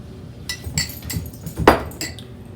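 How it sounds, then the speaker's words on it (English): A metal spoon clinks sharply against a bowl while making sweet white bread dough, five or six distinct close taps spaced unevenly, alone with no talk. "I'm going to get my spoon."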